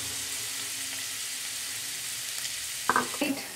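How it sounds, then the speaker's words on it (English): Onions fry in two tablespoons of hot oil in a wok, giving a steady, fairly faint sizzle, with a few louder clinks or scrapes near the end. "In my wok, I have 2 tablespoons of oil, and I'm gonna go ahead and add my onions, and we'll fry onions until they are slightly golden brown."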